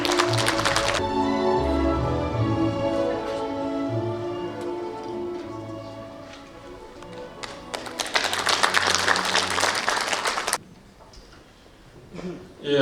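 At a Gyeongsangbuk-do ceremony marking the 107th anniversary of the founding of the Korean Provisional Government, a few seconds of dense audience clapping rise after a musical passage and then stop abruptly.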